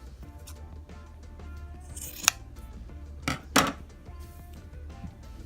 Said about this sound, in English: It's pretty long, so what I'm going to do is I'm just going to cut it in half.